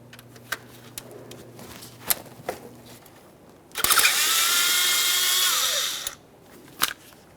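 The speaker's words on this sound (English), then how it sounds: "Now we'll dislodge this bracket, which is attached to our intake. We're using a 10mm for this." A power tool with a 10mm socket whirs loudly for about two seconds, loosening an intake bracket on a 2012-2018 Nissan Maxima 3.5L V6, with sparse clicks and taps before and after.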